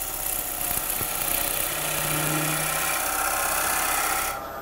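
A gouge cuts into spinning wood on a Coronet Herald lathe, shaping a spigot: a steady, close grinding rasp over the motor hum, continuous for several seconds before ending abruptly.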